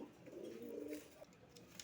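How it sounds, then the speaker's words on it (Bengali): A female pigeon gives a single soft, low cooing call, faint and close, followed by a few quiet ticks. "একটা মাদি কবুতর"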